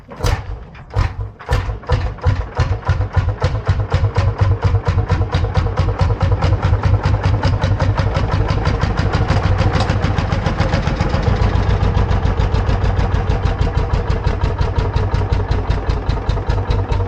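A large Lanz Bulldog single-cylinder two-stroke hot-bulb tractor engine, already warm, fires up with a few loud, separate thumps and then settles into a steady, heavy, rapid chugging idle that stays loud and close throughout.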